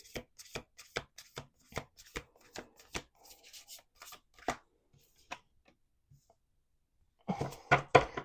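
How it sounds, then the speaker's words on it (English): A deck of cards is shuffled with a quick run of crisp riffling snaps, a pause with soft handling, then another burst of shuffling at the end. "We're going to do 2 more shuffles."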